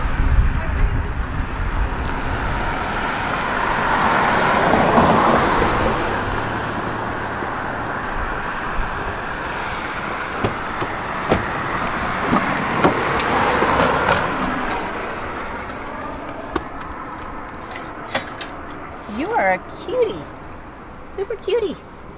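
Steady engine and road rumble from inside a moving car, with passing traffic swells and occasional clicks, while people talk over it and a puppy whimpers faintly toward the end.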